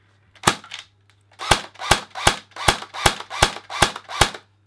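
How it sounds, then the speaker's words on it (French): An APS UAR airsoft electric rifle fires one shot, then after a pause seven more sharp, evenly spaced semi-automatic cracks, each loud and close with a quick mechanical snap and no talking. "je vais vous faire un tout petit peu écouter, on va dire, le bruit de l'arme"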